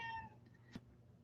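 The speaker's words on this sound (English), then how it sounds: "Oh, that's my cat." A house cat gives one faint, short meow at the start, followed by a quiet room and a single small tap.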